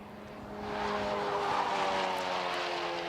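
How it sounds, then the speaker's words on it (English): A racing car at Snetterton in a Honda championship race pushes its tyres to the limit, giving a sustained tonal squeal and engine drone that swells within the first second and then holds steady at a moderate distance. "you can really hear pushing the tyres to the limits there with that car"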